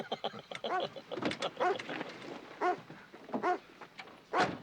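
A dog standing in the road beside a car gives a series of short whimpers and yelps, some close together and others spaced apart, fairly quiet against a still background.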